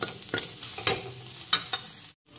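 Banana slices sizzle steadily in hot oil at close range, broken by a few scraping stirs before a brief moment of silence.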